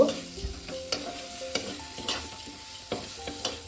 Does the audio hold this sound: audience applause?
no